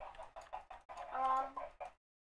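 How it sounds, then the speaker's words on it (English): Chickens in a video game farm, a short run of close clucks and one longer squawk, with nothing else beneath them. "those chickens are annoying"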